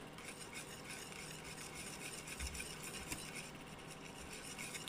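A spoon stirs thick banana and cornstarch cream dessert in a pot with a soft, continuous scraping and rubbing, quiet and steady with no talking.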